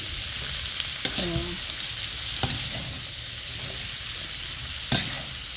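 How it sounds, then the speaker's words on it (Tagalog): String beans (sitaw) simmer and are stirred in a pan, giving a steady close sizzle with a few sharp clinks and scrapes of the spoon against the pan, no voices. "So, simmer lang yan ng ilang minutes."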